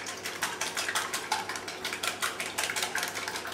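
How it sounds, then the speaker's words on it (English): Two eggs are lightly whisked in a bowl for banana bread, giving a quick, even run of soft clinking strokes against the bowl, close by with no talking. "I'm going to give that a bit of a whisk"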